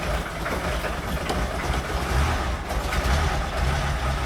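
A car engine idling unevenly with a misfire, giving a continuous loud rumble with an irregular, lumpy pulse and no voices over it.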